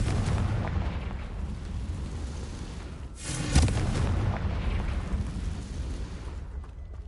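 A Confringo explosive spell in Hogwarts Legacy, heard as a loud, deep blast bursting out of a dense rumbling battle background, with a sharp attack followed by a rolling boom.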